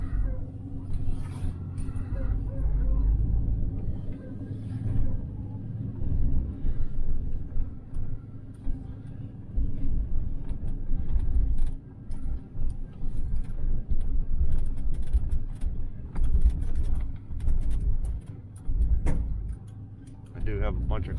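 A 1968 Chevelle Nomad, back on the road after 32 years, is shifted into gear and driven. A steady, close engine rumble runs throughout, with faint ticking and rattles from loose items in the back.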